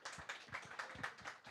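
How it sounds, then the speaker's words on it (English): Small round of applause from an audience at the end of a JavaScript meetup, a few quick rhythmic claps, fairly faint and with no talk over them. "And a small round of applause for yourself for staying to the end."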